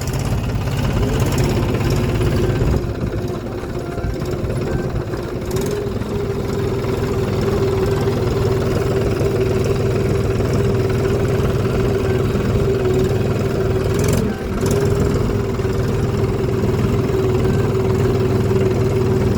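A tractor engine idles steadily on a farm, a continuous low mechanical drone with a firm harmonic hum that runs unbroken throughout, close and fairly loud, with no talk over it.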